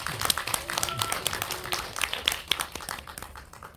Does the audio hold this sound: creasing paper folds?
no